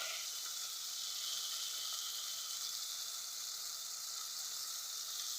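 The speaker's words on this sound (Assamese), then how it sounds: "মই ডিমটো ভাজি দিলোঁ" Continuous bright sizzling of an egg frying in a pan, a steady hiss with no voices.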